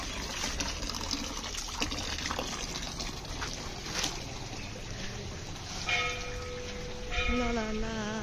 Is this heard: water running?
yes